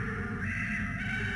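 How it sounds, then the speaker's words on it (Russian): A harsh, crow-like cawing hawk cry in the video game Bioshock Infinite, a steady raspy call running through the whole short moment over a low game ambience, with no talking. "Ястреб."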